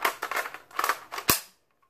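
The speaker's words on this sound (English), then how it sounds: "I kinda feel like I'm gonna break it just pressing this trigger." An airsoft pistol, newly unboxed, gives a sharp mechanical snap as its trigger is pressed, a single crisp click after a few faint rustling handling noises, close and fairly loud.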